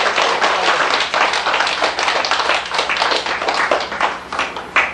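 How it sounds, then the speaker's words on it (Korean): An audience claps hands in steady, dense applause that holds close and loud throughout, with uneven bursts and no speech over it. "박수 쳐라고."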